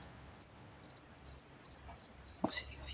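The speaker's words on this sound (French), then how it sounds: "Oh, c'est les grillons." Crickets chirp in short repeated bursts, a high shrill pulsing trill against a quiet background, with a faint knock near the end.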